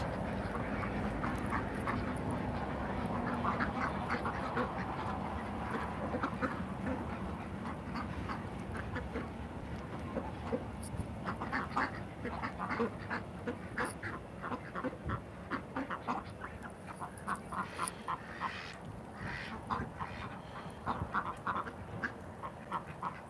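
Domestic ducks quack steadily while feeding on their feed on a cold day, a dense, continuous chorus of nasal calls, close and fairly loud, with busy pecking and shuffling underneath throughout.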